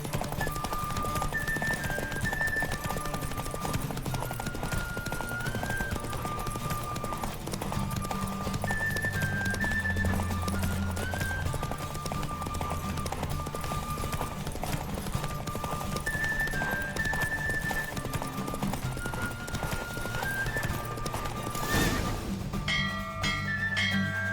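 Roach, the Witcher's horse in The Witcher 3, gallops through a race with steady rapid hoofbeats, close and continuous, under a layer of game music, ending with a brief snort.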